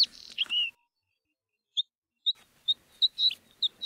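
A bluethroat sings clear, high chirps and short whistled notes, spaced out with pauses, against an otherwise quiet background.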